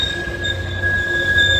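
Train wheels squeal on the rails at a station in Northern California: a high, steady metallic shriek holds for the whole moment, with a low rumble of the moving cars underneath.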